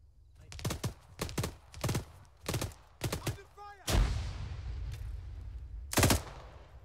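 A frag grenade blast in the military shooter Arma 3 booms loudly after a run of sharp rifle shots, leaving a long rumbling roll-off, with another burst of gunfire following; voices speak briefly between shots.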